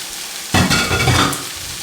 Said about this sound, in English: Now that we've got the potatoes on here, let that go just for a minute to get it seared up.